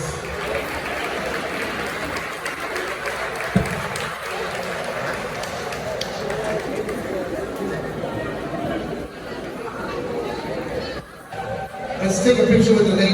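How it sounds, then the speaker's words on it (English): Crowd at a glow-in-the-dark high school pep rally claps and chatters for a food service worker, a dense continuous wash of applause and babble with brief dips near the end. "Let's give them one more round of applause"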